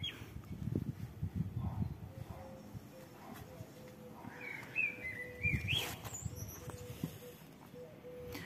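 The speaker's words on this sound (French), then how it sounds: "Vous savez, c'est quel oiseau qui fait ça?" Small bird chirps and twittering calls sound at moderate distance, scattered in short bursts over low rustling and faint background noise, with a brief pause between groups.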